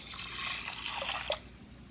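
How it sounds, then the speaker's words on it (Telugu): A cup of water is poured into a pressure cooker holding moong dal and soaked ragi, giving a brief, soft splashing pour that trickles off and ends with a small drip. "ఉడకడానికి 1 కప్పు వాటర్ వేస్తున్నాను."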